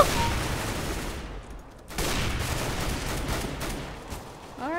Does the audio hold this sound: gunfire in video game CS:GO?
yes